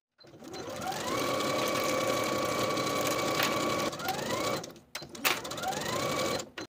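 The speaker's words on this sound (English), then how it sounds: "Sew your center back seam with a 5/8 inch seam allowance." Sewing machine stitching the center back seam of a kimono jacket at a 5/8 inch seam allowance: a steady close mechanical whir for several seconds, then brief stops and restarts.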